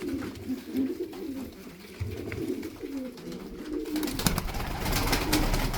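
Tumbler pigeons, Turkish taklacı birds in a loft, coo in low repeated throaty rolls close at hand, with rustling and shuffling noises rising near the end.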